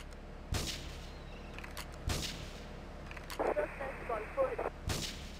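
Gunfire in GTA III: three sharp, separate shots spaced well apart over a low background hum, with a voice talking between them.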